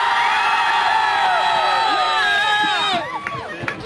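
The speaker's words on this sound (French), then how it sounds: "Et sous l'animation de la foule." Big crowd cheering and whooping loudly, a sustained roar of voices that drops away near the end into scattered calls and movement.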